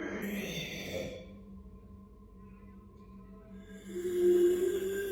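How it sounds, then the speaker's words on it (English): Raspy breathing and low moaning inside a house, a droning voiced tone lingering faintly in a quiet room before swelling louder near the end, with breathy hiss at the start. "sounds like raspy breathing and moaning can be heard coming from somewhere in Francesco's house"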